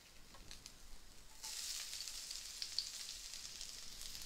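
Shredded ginger and garlic hit a hot pan and sizzle, the frying jumping louder partway through and then holding as a steady hiss without any talk.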